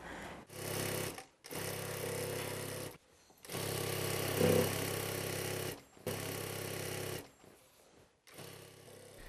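A sewing machine stitches in loud, steady bursts of motor hum and rapid needle clatter, starting and stopping several times with short pauses between runs.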